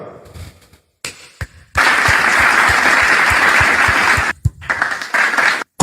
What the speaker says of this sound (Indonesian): tepuk tangan buat debater Muslim dari Kuningan